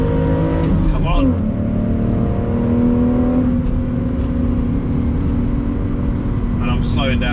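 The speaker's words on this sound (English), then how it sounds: "I'm slowing down again to let the GT3 pass" A GT3 race car passes on the Nürburgring Nordschleife, its engine note rising past over the steady drone of the cabin of a BMW Z4, loud and continuous with a brief high whine near the end.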